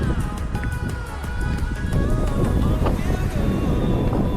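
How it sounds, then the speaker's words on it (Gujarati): Strong seashore wind beside a coastal temple buffets the microphone, making a loud, continuous low roar and rumble that swells slightly partway through. "અહીંયા પવન પણ વધારે આવે છે"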